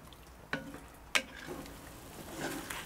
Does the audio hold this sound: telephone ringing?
no